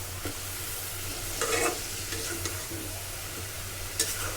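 Meat sizzles in a pot as a spoon scrapes and stirs it, with a steady frying hiss under intermittent clattering stirring strokes.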